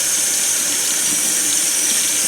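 Hot water from a tap runs in a steady, loud, close hiss as it wets the crown of a felt-style hat, unbroken and with no voices.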